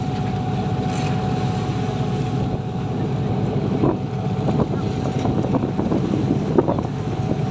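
Steady low engine drone of a motorboat with wind buffeting the microphone, continuous and fairly loud throughout.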